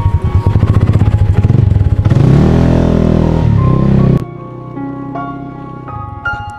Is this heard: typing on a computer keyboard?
no